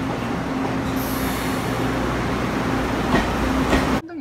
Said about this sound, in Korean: 기차도 지나가고